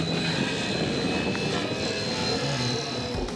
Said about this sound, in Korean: 비행시연회에서는 무선 조종 RC 헬리콥터를 조종하는 국가대표 선수들의 시범도